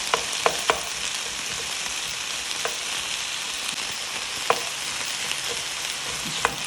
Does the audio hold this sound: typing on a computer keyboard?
no